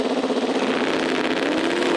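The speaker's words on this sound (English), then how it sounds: "nitrous versus turbo. Should be an interesting matchup, folks. We get them locked in. Both drivers bring up the RPMs." Street drag race cars, one on nitrous and one turbocharged, hold raised revs on the line in a loud, steady, buzzing engine drone with a slight flutter, close by and continuous.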